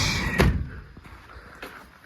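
A door swings shut with a loud thud near the start, followed by a fainter knock a second later, close by in a quiet outdoor setting.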